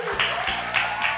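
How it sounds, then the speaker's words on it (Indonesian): Studio audience applause on a dating game show, a short, steady burst of clapping over background music, moderately loud and even. "Oke, tepuk tangan dulu buat kita semua guys."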